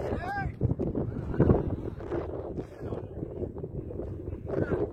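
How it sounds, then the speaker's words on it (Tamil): Strong gusty wind buffets the microphone at an outdoor T20 cricket ground. The rumbling blasts rise and fall throughout, close and loud, and a commentator talks over them the whole time. "காத்து வேற பயங்கரமா அடிக்கி"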